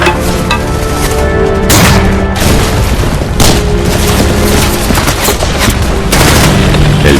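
Loud, continuous WWII battle din of enemy gunfire and heavy explosions, with booming blasts and rattling shots layered densely throughout and no pause.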